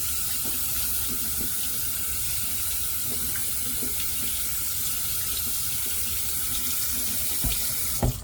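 Tap water running steadily into a tub, a close continuous hissing splash with no break, ending in a couple of small knocks.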